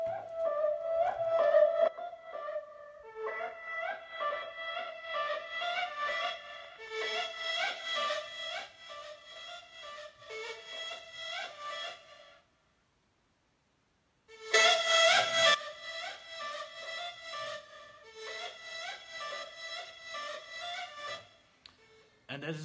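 A Serum synth lead using the Cursed Snake preset plays an Arabic-style melody, soloed, with bright stacked harmonics in dense phrases, a brief gap of silence midway, then the line resumes at steady moderate loudness.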